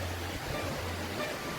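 Water rushes from a dam in a continuous broadband roar, steady and close, with a low hum underneath and no voices heard.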